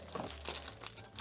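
Thin plastic wrapping on an advent calendar fidget toy crinkles and rustles as it is handled and opened, a close, steady crackle lasting about a second.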